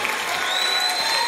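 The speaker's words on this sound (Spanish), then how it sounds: "Ahora dar un aplauso fuerte al Padre" Loud, dense applause from a church congregation during a worship service, a continuous wash of clapping with no break.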